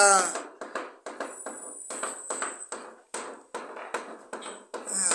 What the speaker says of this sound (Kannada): ಸರ್ ಉಜ್ಜುತ್ತಾ ಇದ್ದೀನಿ. ಏನ್ನ? ಸರ್ ಅಯಸ್ಕಾಂತದಿಂದ ಸೂಜಿನ.